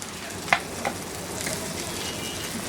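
Coriander, turmeric and chili powders frying with onions for an Afghani egg curry, a soft, steady sizzle with a couple of brief utensil clinks near the start and no talking.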